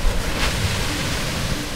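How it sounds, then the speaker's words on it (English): Ocean surf rolls in at the Wedge on a fairly flat morning, a close, loud, continuous broadband rush of water mixed with gusty wind noise on the microphone. "you can see some kind of waves."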